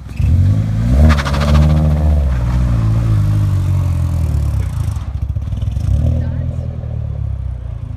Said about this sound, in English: is going to do a burnout